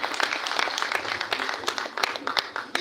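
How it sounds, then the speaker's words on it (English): Audience hand clapping at a national primary schools festival final, offered for the main sponsor: moderately loud scattered claps from a crowd, uneven and somewhat sparse, with a few sharper individual claps standing out near the end. "If that is the hand clap for our main sponsor"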